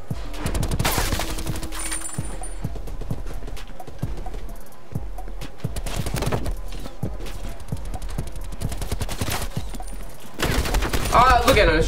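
Rapid bursts of automatic gunfire from Call of Duty: Cold War, including MP5 and AK-47 fire, crackle in repeated volleys throughout, with a player talking over the shooting.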